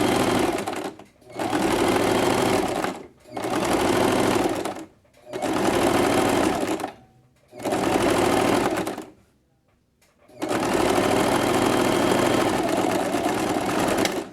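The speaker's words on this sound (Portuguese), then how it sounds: "vou trazer o tecido aqui e vou passar uma costura bem fininha aqui" An electric sewing machine runs a fine, narrow finishing seam along the edge of fabric in about six steady, loud whirring bursts, each a second or two long with short pauses between, and no talking.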